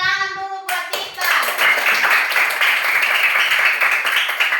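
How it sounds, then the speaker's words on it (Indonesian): Schoolchildren in an Indonesian classroom clapping hands together, a dense, loud burst of applause that starts after a short spoken phrase and continues steadily. "Tepuk tangan dulu buat kita."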